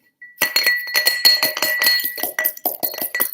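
Fresh mint being smashed in a glass for a mocktail, heard as a fast run of bright glassy clinks and knocks from a muddler striking the glass, loud and close with no talking.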